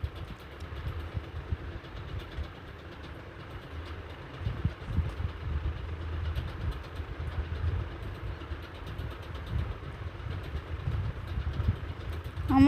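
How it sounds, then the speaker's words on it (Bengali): A motorbike engine hums low and steady while riding along a road to Kachua, a faint continuous drone with some wind rumble and no talk. "আজ বাইকটা নিয়ে কচুয়ায় চলে যাচ্ছি লোকনাথ বাবার মন্দিরে পুজো দিতে।"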